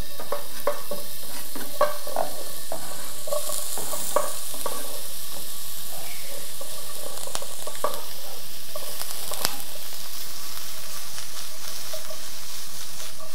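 Frittata ingredients sizzle loudly in a hot pan as they are tossed and stirred, with scattered scraping and clattering over a dense, continuous frying hiss.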